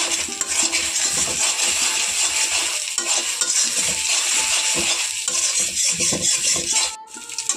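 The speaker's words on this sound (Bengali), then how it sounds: "তো ঝুড়ো ঝুড়ো করে ভেজে নেব।" Eggs scrambled in a hot pan, broken into crumbly bits, with loud continuous frying hiss and frequent metal spatula scrapes and clinks against the pan, close and without speech.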